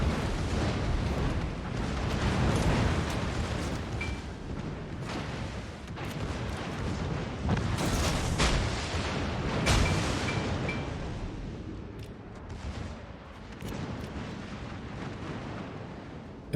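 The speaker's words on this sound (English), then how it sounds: "Ibuki dies to concentrated gunfire." Naval gunfire in a World of Warships-style battle with Japanese destroyers: a continuous barrage of booming cannon shots and explosions rumbles heavily and overlaps throughout, loud and dense, with no voices.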